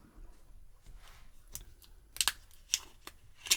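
A plastic wrapper comes off the top of a packaged banana drink: sparse, close crinkles and sharp clicks over a quiet background, with a few louder crackles toward the end.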